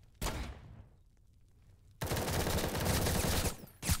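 Gunfire in the Roblox game War Tycoon: one sharp shot followed by a ringing tail, then a loud sustained burst of automatic fire and another short burst at the end, all close and with no talking.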